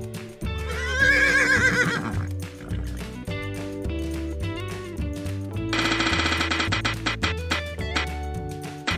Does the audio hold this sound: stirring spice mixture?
no